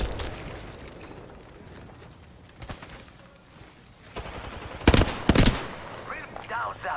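Gunfire in the video game Apex Legends crackles in scattered bursts, with a few louder, sharper volleys near the end and a brief spoken voice-line under the shooting.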